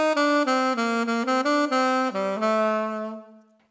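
An alto saxophone plays a short phrase from a Star Wars theme, a run of sustained legato notes stepping through a melody before a final held tone fades out, played alone and close.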